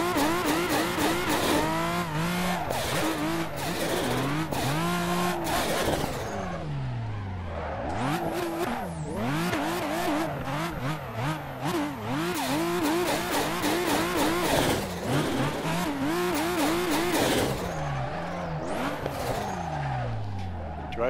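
A modded car in the racing game Assetto Corsa revs hard through the gears, its engine note sweeping up and down with tire squeal and skidding, loud and continuous throughout with occasional talk underneath.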